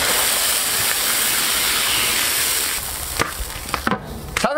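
Water poured into a hot wok of sauce-coated beef brisket gives a loud, steady steaming hiss that drops in level partway through, followed by a few sharp clicks and clatters.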